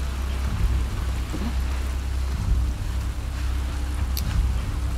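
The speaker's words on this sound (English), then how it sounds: "that's while it's raining" Rain falls in The Last of Us Part II as a steady, even hiss over a low rumble, with a few faint sharper ticks scattered through it.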